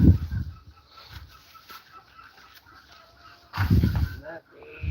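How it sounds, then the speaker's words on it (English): Farm hens brooding on eggs cluck in short, low bursts up close, two louder clusters separated by quieter rustling, with a voice briefly audible. "We got 4 hens here sitting on 2 batches of eggs."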